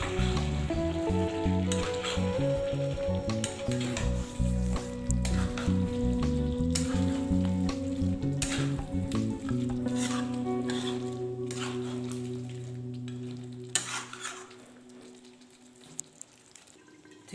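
Chicken in masala gravy cooking in a pan for biryani, a loud continuous sizzle and bubbling with stirring scrapes, fading toward the end, no talking.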